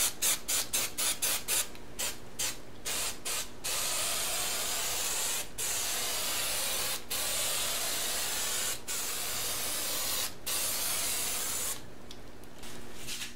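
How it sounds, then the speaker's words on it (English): An aerosol can of spray adhesive coats a sheet of insulation, starting with quick short spurts and then settling into long continuous hissing passes with brief breaks, close and fairly loud. "Now I'll spray down one of the sheets of insulation."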